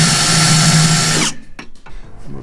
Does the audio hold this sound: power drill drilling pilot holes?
yes